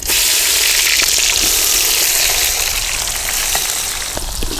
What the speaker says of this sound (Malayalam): ഇനി നമുക്ക് ഇതിലേക്ക് ഉള്ളി ഇട്ട് കൊടുക്കാം.